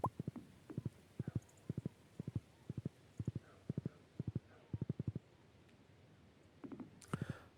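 Horse hooves in the video game Stardew Valley clip-clop in quick clusters of three or four knocks, repeating rhythmically at moderate volume against a quiet background.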